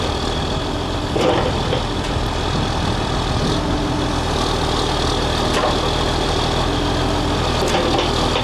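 A 1981 660D machine's engine runs steadily at close range while the boom is raised and lowered, a loud continuous heavy mechanical rumble with faint creaks over it and no speech.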